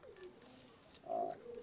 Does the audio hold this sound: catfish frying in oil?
no